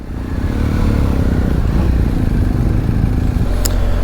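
An adventure motorcycle on a rally rideout in Ireland pulls away with a loud, steady engine drone close by, holding a continuous throaty rumble throughout with no voices.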